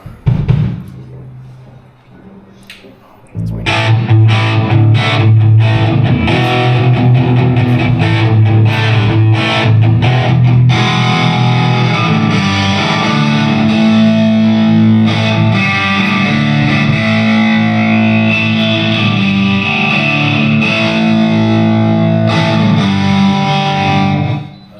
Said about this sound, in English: All right, let's hear guitar.